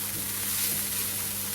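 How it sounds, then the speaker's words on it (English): Chopped onions frying in a hot pan for a meat and potato pie, a steady, close sizzle with soft crackling that holds level from start to finish. "it's been about 10 minutes I've been frying my onions"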